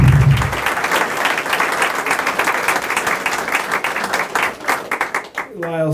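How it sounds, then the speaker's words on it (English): An audience at a regional economic development annual meeting breaks into applause, dense clapping from many hands close and loud that thins out near the end as a voice begins speaking. "A round of applause for the Vermont Community Foundation."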